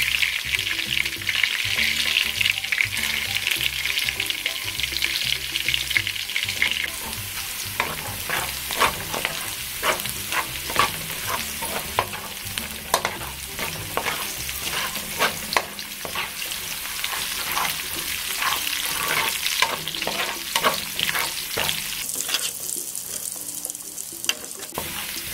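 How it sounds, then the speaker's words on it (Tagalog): Garlic sautés in hot oil in a pan for pansit canton, a continuous close sizzle broken by repeated scraping stirs, with a faint water-like wash running underneath and no voices. "Ngayong kumukulo na po ang ating mantika, ay gigisahin na po natin ang ating bawang."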